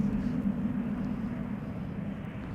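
A Helvetic Airways Embraer 195 lined up for departure at Amsterdam Schiphol, heard as a steady low jet engine rumble and roar, fairly loud and unbroken for the short stretch.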